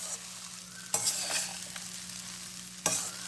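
Mango rice is stirred in a hot pan of sesame oil, a soft continuous sizzle broken by a couple of sharp scraping clatters as the spoon turns it, up close with no talking.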